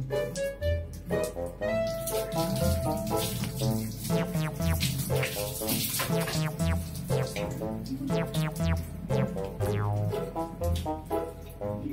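Water runs steadily from a tap while a cat is bathed, a continuous splashing wash at close range. It goes on under scattered tonal sounds and handling noise.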